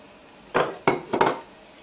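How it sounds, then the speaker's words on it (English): A spoon stirs colby-jack cheese into boiling milk in a metal pot, making three distinct scraping, clinking strokes against the pot's sides, close by, with quiet between them. "And then I'm just going to stir until that melts."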